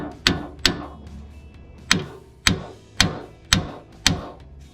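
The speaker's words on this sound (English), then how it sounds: "So start with hammering the side." Seven sharp, loud metallic hammer strikes on the side of a seized ball joint spindle at an uneven pace, each ringing briefly with a short decay, close by with no talking.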